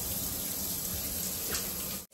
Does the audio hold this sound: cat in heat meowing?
no